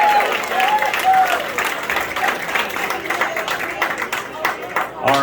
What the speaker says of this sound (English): How about a great round of applause for Angie and the boys here?